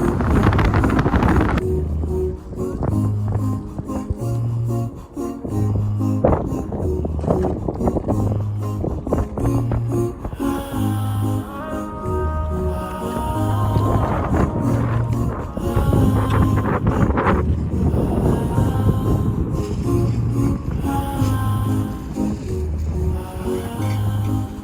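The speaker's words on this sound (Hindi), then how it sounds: "आप लोगों को अंदाज़ा हो रहा होगा कि कितनी तेज़ हवाएं चल रही हैं यहाँ पर" Strong wind blows across the mountains at Al Habala near Abha, Saudi Arabia, a constant loud roar buffeting the microphone beneath a steady rhythmic music track.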